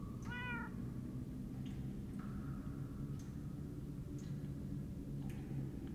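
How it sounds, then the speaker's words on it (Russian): Cats meowing in the video game Minecraft Story Mode: one clear, fairly faint meow near the start, followed by a few softer, brief mews over a steady low rumble. "Cats? Кошки?"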